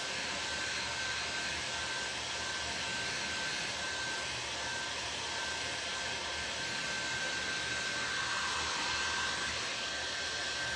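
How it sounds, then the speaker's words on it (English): A heat tool blows hot air in a continuous, even, close-up roar with a thin steady whine running through it, unbroken for the whole stretch and without talk. "Get some air and heat on it."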